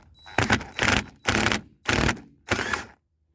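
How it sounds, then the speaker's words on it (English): A cordless impact wrench fitted with a 1/2 inch socket fires five loud, rapid hammering bursts in close succession while working a nut on a chipper/shredder or pressure washer, with short pauses between each rattling burst. "I'm gonna use a 1/2 inch socket with my impact here."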